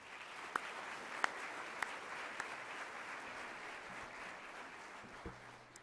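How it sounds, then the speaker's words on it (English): Soft, distant applause from a commencement audience at a law school graduation, a steady wash of clapping with a few sharper individual claps standing out near the start. "Please, let's give them a round of applause again."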